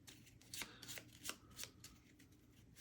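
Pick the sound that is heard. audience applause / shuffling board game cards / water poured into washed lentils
shuffling board game cards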